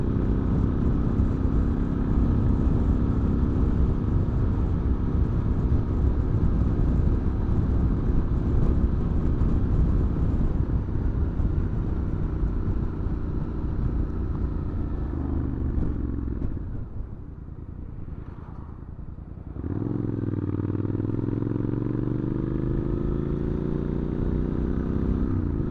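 Triumph Scrambler 900 motorcycle engine running on the road, a steady throaty drone that dips briefly as the throttle closes, then rises again with a climbing rev.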